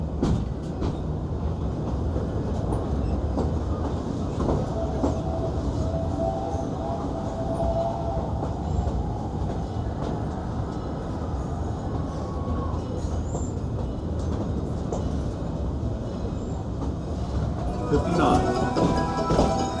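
A Disneyland monorail ride, heard from on board as a loud, continuous rumble of the train with a faint rising whine partway through and someone talking over it throughout.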